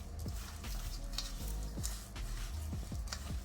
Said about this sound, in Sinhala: මේක හොඳට අපි මේ විදිහට කලවම් කරගන්නවා